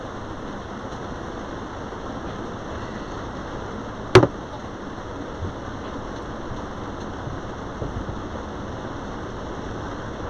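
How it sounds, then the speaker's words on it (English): Steady rain falls on a bay, a dense, even hiss that fills the whole stretch, broken once by a single sharp click near the middle. "Look at this rain, Lorraine."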